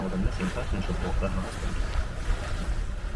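A Catalina 30 sailboat moves under sail at about 5.5 knots in a fresh breeze. Continuous wind rush and water noise dominate the scene, and a voice can be heard over it.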